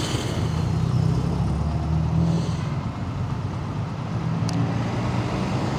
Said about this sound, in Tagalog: Traffic pa tayo.